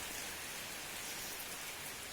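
Morning rain in Mcleodganj makes a soft, steady hiss of falling drops, faint and even throughout with no voices or other distinct sounds.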